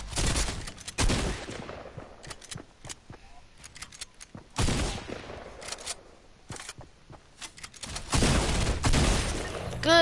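Video game gunfire from a newly added gun: bursts of rapid shots in clusters with gaps between, loud and close, speech faintly in the background.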